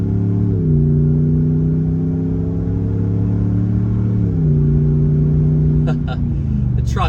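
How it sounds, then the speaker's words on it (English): A Ram 1500 pickup with coil suspension drones along on a road trip, its exhaust a loud, steady low hum that steps up in pitch as it accelerates, with a few sharp clicks near the end. "But here we go with some exhaust."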